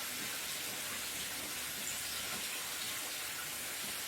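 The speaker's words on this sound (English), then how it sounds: "I'm just going to run my tap so it's not ice cold." Water runs steadily from a kitchen tap in a continuous hissing stream, close by and fairly quiet, with no talking.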